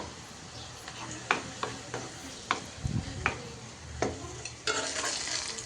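Spices, onion and chopped tomatoes sizzle in a pan while a spoon stirs and scrapes in irregular strokes, with a brief louder burst of frying near the end.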